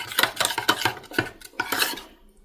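A spoon stirs instant chutney in a bowl, giving a quick series of close scraping and clinking strokes in an irregular rhythm that fades at the end.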